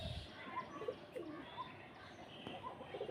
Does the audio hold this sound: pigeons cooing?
yes